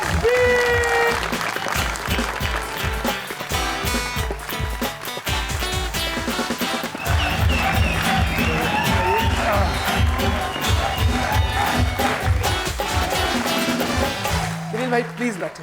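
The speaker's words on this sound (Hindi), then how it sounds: "अब मैं चाहता हूं आप और मैं मिलके बहुत सारी तालियों के साथ जज्बे के साथ मोहब्बत से बुलाए" A studio audience claps and cheers continuously to welcome a singer onto a talk show stage, with dense rhythmic music running through the applause.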